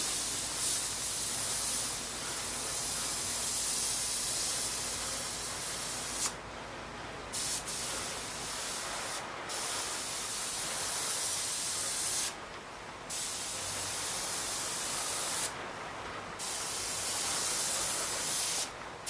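An airbrush sprays water-based paint with the air left on constantly, giving a steady close hiss that drops out briefly a few times between longer sustained bursts.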